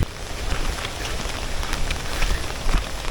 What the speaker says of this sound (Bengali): এই বৃষ্টিতে কিন্তু ঘুরতে ভালো লাগছে